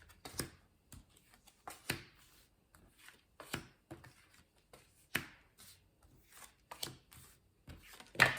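Tarot cards are shuffled for a reading, a quiet, close series of dry papery riffles and taps in irregular bursts.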